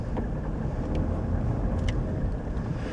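A Mercedes W124 300TD with a 3-litre straight-six 24-valve diesel engine on the move, a low, even rumble blended with road and wind noise, heard steadily from inside the car at moderate level, no talking.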